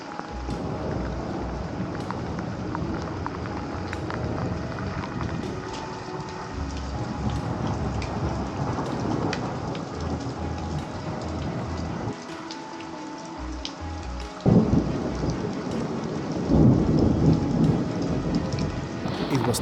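Steady rain with rumbling thunder in a survival horror video game, the downpour loud and continuous throughout, with a heavier thunder rumble breaking in about two-thirds of the way through.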